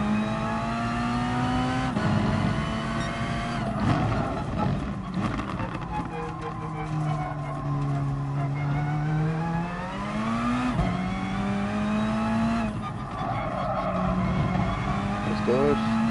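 Race car engine in Gran Turismo Sport, a steady high-revving whine rising and falling through gear changes with occasional tire squeal, loud and continuous, with someone talking over it.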